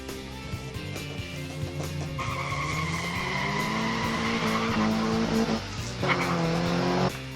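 Small 1/64 scale diecast Mustang muscle cars race down a track in a stock muscle car event, giving a steady whirring, rolling rumble throughout, with brighter skidding swells building in the middle and end and no talking over it.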